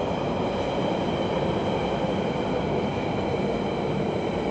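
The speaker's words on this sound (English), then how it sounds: "Oh, there's another train coming across the bridge." A London Underground train crosses a bridge at night, a loud steady rumble of wheels and carriages with faint rail squeal, running unbroken throughout with no talk.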